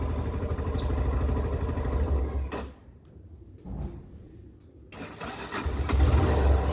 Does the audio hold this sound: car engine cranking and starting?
yes